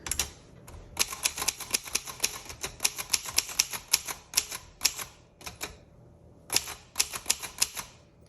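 Sharp, rapid keystrikes from a 1965 Consul 232 ultra-portable manual typewriter, typed in bursts with brief pauses and clattering close by, with no voices.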